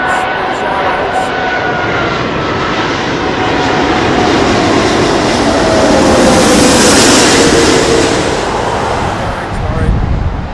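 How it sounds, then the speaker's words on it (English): A Qantas Airbus A380 flying in at Heathrow gives a loud, sustained jet engine roar that swells and holds near its peak as it passes overhead, with no speech. "I think this is the first Qantas A380 I've ever seen."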